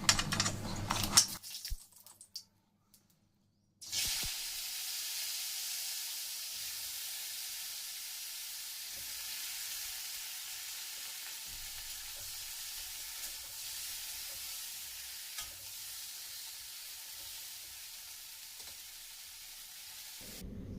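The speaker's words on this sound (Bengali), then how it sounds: "সবজিগুলোকে খুব ভালো করে ভেজে নিতে হবে, আর ভাজতে ভাজতেই কিন্তু সবজিগুলো সেদ্ধও হয়ে যাবে।" Raw banana, potato and eggplant frying in oil make a continuous, even sizzle that runs steadily after a short quiet gap at the start, with light crackles throughout.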